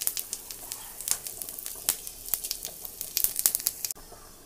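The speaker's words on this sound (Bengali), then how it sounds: "চলো 5 ফোড়ন দিয়ে দিচ্ছি" Panch phoron five-spice seeds hit hot oil with a close, dense crackling sizzle of sharp popping bursts that cuts off abruptly near the end.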